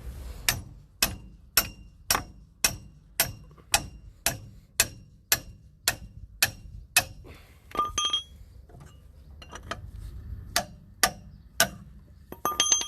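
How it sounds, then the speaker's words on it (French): A hammer strikes a wrench to loosen the wheel bolts on a Ducato camper van, a long run of sharp, evenly spaced metallic blows, then a few scattered clanks and a final burst of quick hits. "j'ai pris un marteau, comme ça je vais moins me fatiguer à desserrer"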